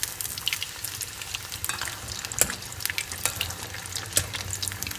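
Seer fish slices fry in a moderate amount of oil in a pan, producing a close, continuous sizzle with frequent sharp crackles and pops scattered across the whole stretch.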